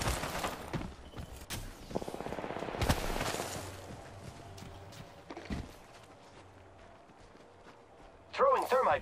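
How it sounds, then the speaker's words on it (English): Enemy gunfire in the video game Apex Legends, bursts of rapid shots mixed with other game effects and footsteps, with a voice talking over much of it. "The enemies are shooting at me."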